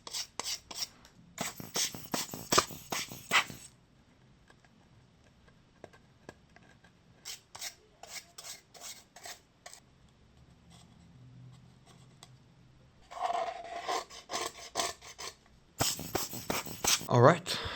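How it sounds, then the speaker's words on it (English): Scraping and rubbing at glue residue around the frame of a Redmi 10 phone during repair, in repeated bursts of close, dry rasping strokes separated by quieter pauses, with a voice speaking over parts. "There was a lot of glue residue like around the frame that was pretty hard to clean up."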